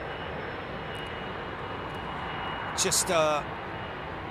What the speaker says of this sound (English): Lovely old, proper old school 777-200.